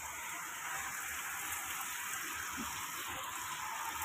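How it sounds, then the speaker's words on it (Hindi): Heavy monsoon rain pours steadily at dusk, a dense constant hiss of water falling on surfaces, even and unbroken with no talk. "सो देखिए ये है यहाँ की बारिश"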